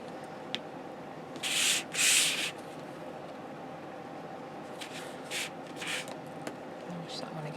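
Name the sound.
burnishing a paper craft album page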